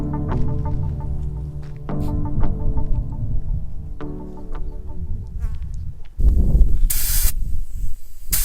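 Steady broadband hiss of air escaping from a deflating tyre on an outback stop in the Flinders Ranges, loud and close, with a sharper, noisier burst near the end.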